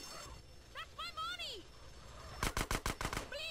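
SMG fire in GTA San Andreas, a quick burst of about six sharp rapid shots right after a short spoken phrase, fairly close and distinct.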